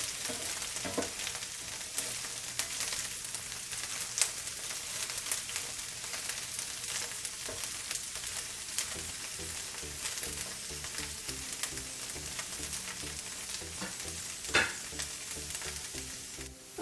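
Okra frying in a pan over a low to medium-low flame, giving a steady, close sizzle with occasional stirring clicks and scrapes, no voices.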